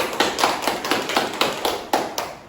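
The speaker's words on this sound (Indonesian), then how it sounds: "Beri tepuk tangan dulu untuk temannya" Classroom applause for classmates who have just presented, a small group clapping close by in quick, slightly uneven bursts, with no talk over it.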